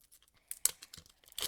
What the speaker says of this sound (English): Let's pull that zipper right here.